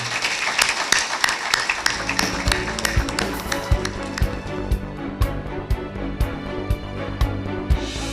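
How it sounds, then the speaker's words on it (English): A crowd applauding steadily, a dense patter of many hands clapping that continues without pause. "Let's give them another round of applause."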